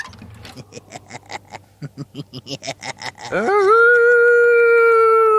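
A man imitates a werewolf, starting with a rapid series of rhythmic barking huffs and then rising into one long, loud, sustained howl up close.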